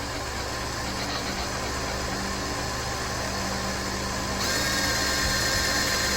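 A power drill boring a hole for a Craftsman sleeve hitch pin runs loud and steady throughout, its whine growing harsher and brighter near the end as the bit cuts deeper.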